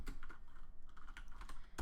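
Someone types on a computer keyboard during a Marvel Contest of Champions session. Quick, faint keystrokes patter unevenly for under two seconds, close to the microphone, with no talking.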